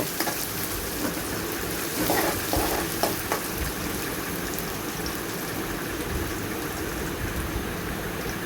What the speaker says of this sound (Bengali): আমার পেঁয়াজ রসুনগুলা বাজা বাজা হয়ে গিয়েছে